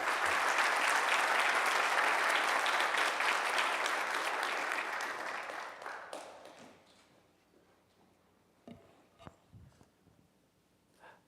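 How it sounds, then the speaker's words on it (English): Conference audience applauding a speaker in a hall, dense loud clapping for about five seconds that thins out and fades, leaving a few scattered claps and taps near the end. "please, a round, warm applause for Dr. Rob Gore"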